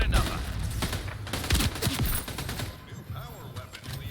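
Rapid bursts of gunfire from the Splitgate 2 alpha, a fast arena shooter, crackle close and loud over about three seconds before thinning out, with voices chatting underneath.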